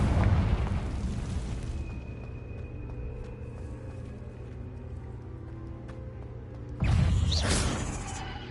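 A Confringo fire spell explodes in a Harry Potter video game. A loud broadband blast opens and decays into a sustained rumble, then a second sharp burst hits near the end.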